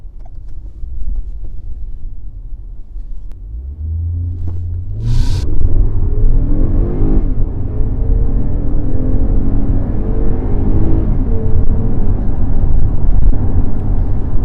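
Toyota Camry with a naturally aspirated V6, traction control off and Sport mode on, launches hard, engine note climbing in rising sweeps over a deep rumble, loud and close with no talk.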